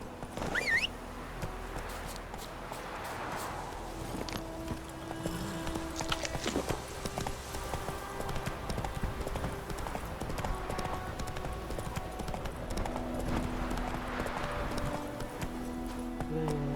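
Roach's hooves clip-clop steadily in Witcher 3 as the horse walks at a slow pace, a continuous rhythmic clatter set against ambient game music and environmental noise.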